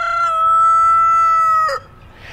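A rooster crows loudly and close by in one long, sustained call, followed by a brief quieter cluck.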